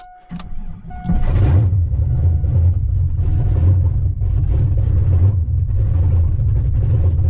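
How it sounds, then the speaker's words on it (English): A hotrodded Chevrolet S10 pickup cold-starts on a cool morning of around 50 degrees: a brief crank, then the engine catches and settles into a loud, steady, rumbling idle close by. "Let's see, cold start."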